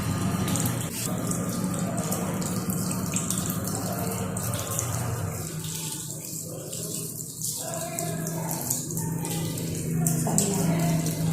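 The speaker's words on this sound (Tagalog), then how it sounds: "we should rinse our hands with water. Running water rinses organisms and dirt into the sink" Running tap water pours steadily into a sink as hands are rinsed during a hand-hygiene routine, a continuous close splashing hiss with small shifts in flow, no talking.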